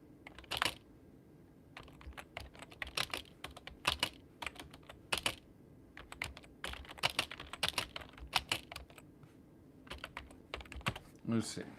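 Irregular bursts of clicking keystrokes on a computer keyboard, close and fairly quiet, with pauses between flurries and faint background noise.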